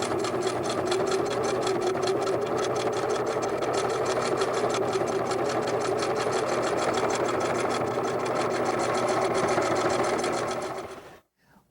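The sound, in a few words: sewing machine sewing quilt binding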